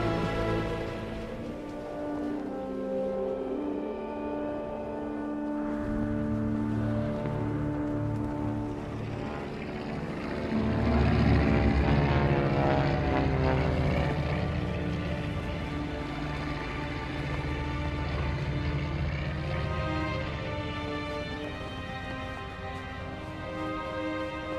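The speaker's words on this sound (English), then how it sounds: "a plane flew over us" A propeller airplane drones overhead in a desert setting, its engine swelling to a loud peak midway and slowly fading, heard alone without voices.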